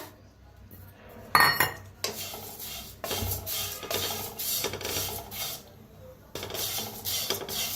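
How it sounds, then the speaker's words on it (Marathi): Poha is dry-roasted in a kadai over a gas flame, with a steady scraping and rasping of a metal spatula against the pan. Bursts of clinking utensil contact come and go, with no talking. "आता फव आपण जरा भाजून घेऊया।"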